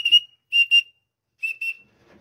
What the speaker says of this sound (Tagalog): dito sinasanay natin sila sa ating pagtawag din na sipol sa ating bunganga